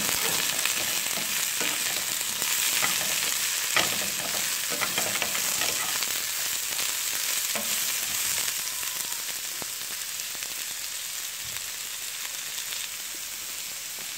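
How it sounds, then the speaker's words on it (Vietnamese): Garlic, carrot and cucumber stir-frying in a hot pan for a baby octopus dish, a loud, continuous close-up sizzle with scraping stirs, easing slightly toward the end, with no talking. "Giờ tỏi được rồi nè, bây giờ cho cà rốt với dưa leo vô."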